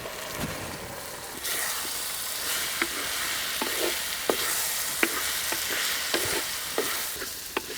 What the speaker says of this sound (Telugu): ఈ కాకరకాయ ముక్కలు రెండు మూడు నిమిషాలు బాగా వేగాలండి